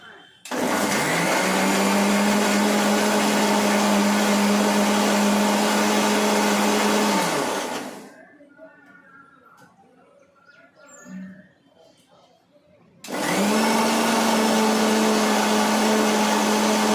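An electric mixer grinder grinding spices roars loud and steady for several seconds, stops for a short quiet gap with faint birdsong and background sounds, then starts up again at full whine.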